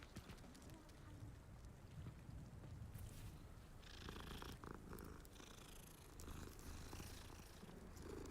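A cat in the video game Hogwarts Legacy purrs close and continuously, a soft rumbling drone with a faint breathy, wind-like background throughout.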